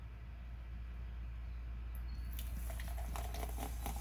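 A&W root beer starts pouring about halfway in, a close fizzing, crackling stream of carbonated liquid over a low steady hum, growing busier as the foam rises.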